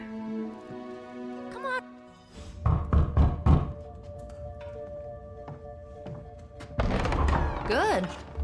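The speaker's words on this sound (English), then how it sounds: "only to have a knock on the door." Knocks sound on a door in Marvel's Midnight Suns: a cluster of dull thumps, then another burst a few seconds later, close and fairly loud, with a voice heard between.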